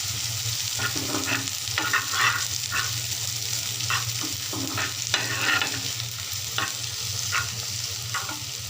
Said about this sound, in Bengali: এগুলোকে একটু ফ্রাই করে নেব যাতে কাঁচা গন্ধটা না থাকে